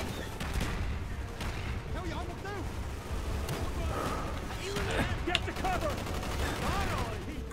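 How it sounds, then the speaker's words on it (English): Gunfire and launcher shots from Call of Duty: Black Ops crackle in dense bursts over a steady battle din, with voices talking throughout. "I'd missed my grenade launcher shot."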